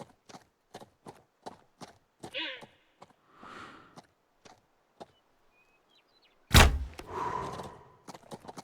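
In the hunting game Way of the Hunter, a bow shot strikes a springbok in Africa: a sharp, loud thwack near the middle, set among a run of soft clicks and dull thuds, with no talking.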